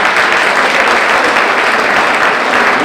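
Loud, dense applause from a crowd at a city State of the City address, continuous clapping from many hands filling the room at an even level with no talk over it.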